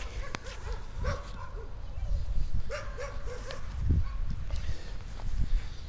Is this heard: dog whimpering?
yes